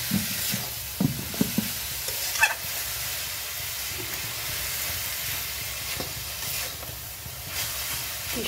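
Mixed leafy greens fry in mustard oil in a pan, giving a steady, close sizzle and hiss broken by a few soft knocks and stirring scrapes, with no one talking.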